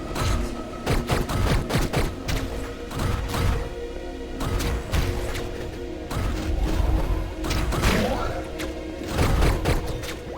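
Rapid gunfire in the Hyper Light Drifter video game, with repeated sharp bursts and thuds across a busy battle mix, some louder volleys near the end.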